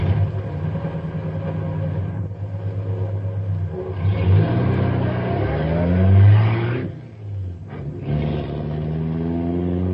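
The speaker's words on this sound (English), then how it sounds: "I'm driving Stumpy's car" A car pulls away in an old-time radio drama effect, its engine revving up loudly in rising surges, dipping briefly between gear changes, then accelerating again close by.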